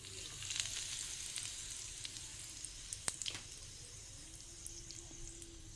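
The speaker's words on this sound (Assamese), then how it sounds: "তেলখিনি গৰম হৈছে, ইয়াতে অকণমান হিং দি দিম।" Asafoetida (hing) sizzling in a small amount of hot oil, a soft, continuous close frying hiss with faint stirring clicks.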